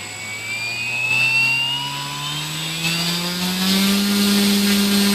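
An E-flite Conscendo S RC plane's electric motor runs close by, a loud steady whine whose pitch climbs slowly as the throttle rises, with a faint buzzing tone above it.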